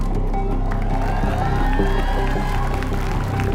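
A studio audience at a singing competition grand final claps and cheers for the winning contestant, a loud, dense burst of applause and crowd noise filling the whole stretch with a low rumble underneath.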